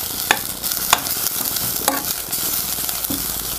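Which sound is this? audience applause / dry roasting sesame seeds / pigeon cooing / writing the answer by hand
dry roasting sesame seeds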